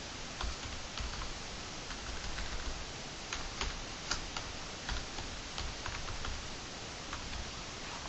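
Keys tapped on a computer keyboard while typing a search keyword for death-penalty case law, with irregular soft clicks in quick bursts under a steady background hiss.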